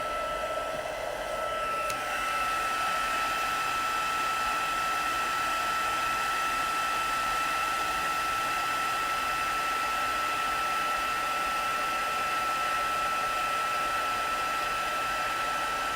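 A heat gun roars in a steady, loud, continuous whoosh of blowing air for heat embossing on a card, switching on right at the start and holding an even tone throughout.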